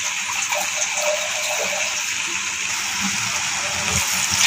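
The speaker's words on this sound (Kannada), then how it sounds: "ಇದಕ್ಕೆ ಇವಾಗ ನೀರು ಹಾಕ್ತಾ ಇದ್ದೀನಿ." Water pours steadily into a pot of rice and lentils, a continuous close gushing splash that stays even throughout with no voice over it.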